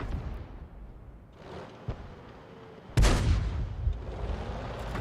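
Artillery guns firing in the tank game World of Tanks: a sharp blast cracks out midway and rolls into a long booming tail, with a smaller thump earlier over steady low rumble.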